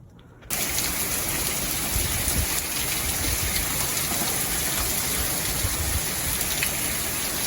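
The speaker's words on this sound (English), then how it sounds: "It's starting to rain." Monsoon rain begins falling in a high-desert garden in New Mexico, a steady dense hiss of drops that starts suddenly and continues evenly at close range.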